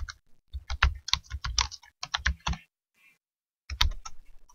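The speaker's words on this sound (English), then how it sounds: "I'm going to type in." Keys clatter on a computer keyboard in quick close bursts of taps, pausing briefly about two thirds of the way through before a final flurry.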